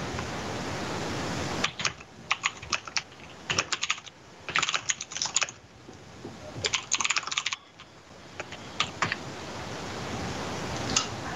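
Rapid bursts of typing on a computer keyboard, clustered clicks that come in short runs separated by pauses, close and fairly loud over a steady background hiss.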